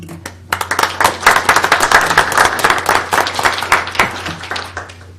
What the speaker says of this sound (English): We really want to give you all a round of applause for working with them.